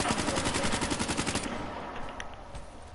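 Automatic gunfire in Black Ops 3 rattles off in a fast, steady burst for about a second and a half, then cuts out into a quieter tail, close and fairly loud.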